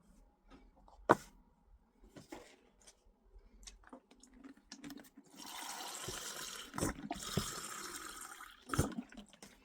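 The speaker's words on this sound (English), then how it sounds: "what I'm going to start by doing is applying a layer of water to the entire thing" Water being brushed or sponged across an ink painting, with soft wet swishes and faint drips, then a denser, steady wash of liquid sound in the second half, punctuated by a few sharper taps.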